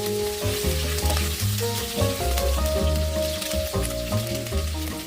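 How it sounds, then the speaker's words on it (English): Pork ribs sizzle in a sugar glaze in a pot while being stirred, a steady frying crackle with stirring scrapes running under continuous background music. "stir consistently to ensure that each piece is evenly coated with the sugar"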